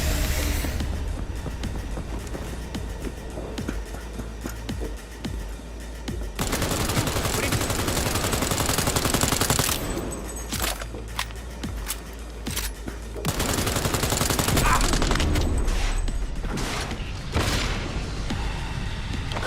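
Gunfire and explosive bursts in Cyberpunk 2077, with ray tracing overdrive on, roar through most of the stretch as dense, sustained volleys. Quieter gaps fall between the loud barrages.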